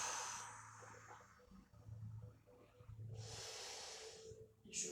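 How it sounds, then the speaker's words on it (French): During a Pilates breathing exercise, slow audible breaths in and out through the nose sound close and soft, with a sharper exhale near the end and no speech. "J'inspire et j'expire."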